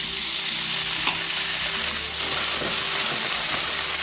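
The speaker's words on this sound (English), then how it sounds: "now we're going to deglaze the pan with some white wine in" A hot pan deglazed with white wine while cooking chicken piccata gives a loud, dense, continuous sizzle and bubbling hiss, with light scraping and clinks from stirring up close.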